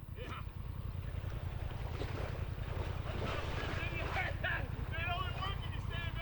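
Fast, deep river water rushes and churns against a wader's legs in a hard-running current, a loud constant roar with wind buffeting the microphone and a few brief chirpy sounds.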